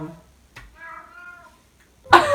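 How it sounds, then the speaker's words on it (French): A single drawn-out cat meow, fairly close and moderately loud, with a brief sharp noise just before it and a loud burst right after. "C'est le chat qui a fait ce bruit."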